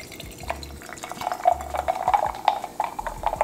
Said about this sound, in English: We're gonna put it in a cute little wine glass, girl.